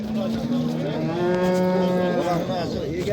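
A cow at a livestock bazaar in Andijan gives one long, drawn-out moo that rises and falls, close and clear against faint market background.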